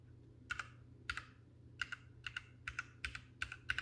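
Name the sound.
key presses on a Ducky Mecha SF keyboard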